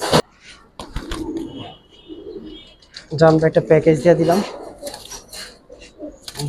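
Giribaz Bagha and Jabra pigeons coo in low, soft bursts at a pigeon fair, mostly beneath a man's close, steady talking.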